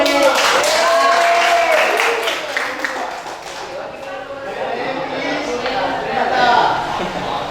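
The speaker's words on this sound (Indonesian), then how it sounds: "Tepuk tangan semua." Students in a classroom clap together for a presenting group during a teaching practice session, steady applause mixed with loud overlapping voices throughout.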